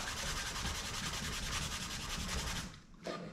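Wooden chamfers are hand-sanded with steady back-and-forth strokes, a close, continuous abrasive rubbing with a regular rhythm that stops near the end before a brief final scrape.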